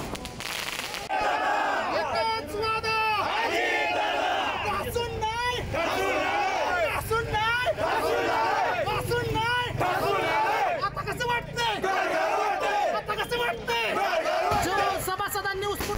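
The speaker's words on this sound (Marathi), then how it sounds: "निर्णायक आघाडीनंतर अजित पवारांच्या कार्यकर्त्यांमध्ये एकच जल्लोष पाहायला मिळाला।" Ajit Pawar's party workers celebrate a Malegaon sugar factory election victory with a loud, dense crowd roar of cheering and shouting, sustained throughout with crackling bursts like firecrackers mixed in.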